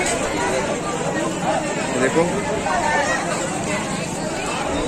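Dense crowd chatter fills a busy vegetable market during rainy, bad weather, many overlapping voices forming a steady, close hubbub throughout, with one voice speaking briefly.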